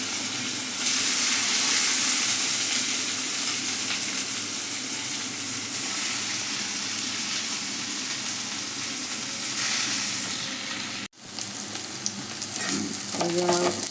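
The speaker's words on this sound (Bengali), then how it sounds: "এই যে আমার উচ্ছে ভাজা হচ্ছে" Sliced bitter gourd frying in oil in a pan, a steady loud sizzle with scraping stir sounds, a sudden brief break near the end, then clinking utensil strokes as the frying resumes.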